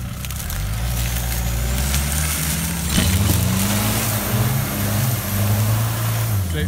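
A Land Rover Discovery 200tdi diesel engine drones and rises in revs while it works to pull a stuck 300tdi Discovery free in mud, loud and close, with voices faint in the background.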